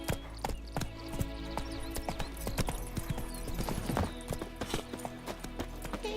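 Hooves of Roach, Geralt's horse in The Witcher 3, clip-clop in a quick trotting rhythm, loud and close, with a busy layer of game ambience and effects around them.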